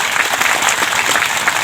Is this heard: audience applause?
yes